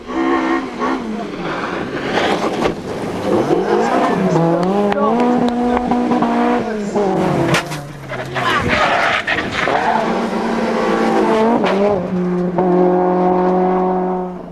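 Rally cars race at the 2002 Jim Clark Rally, engines revving loudly and continuously through rising and falling gear changes, close by and steady throughout.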